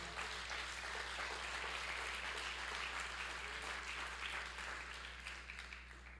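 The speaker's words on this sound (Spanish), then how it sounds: "Dale el aplauso al Señor si se lo vas a dar." A church congregation applauds during a sermon, a continuous wash of crowd clapping that holds steady and fades slightly at the end over a constant low hum.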